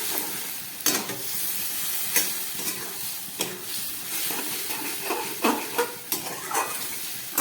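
Ash gourd is stir-fried with a paste of fried urad dal, giving a low sizzle broken by repeated scraping and clinking of a utensil against the pan.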